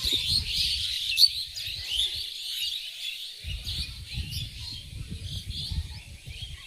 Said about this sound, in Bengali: ওই যাচ্ছে পাখিগুলো।